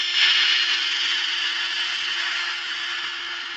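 A woodturning lathe spins a piece at about 1,400 RPM during sanding, giving a steady, even hiss and whir with a faint constant hum underneath, unbroken for a few seconds.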